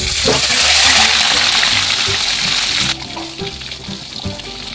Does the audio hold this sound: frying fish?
yes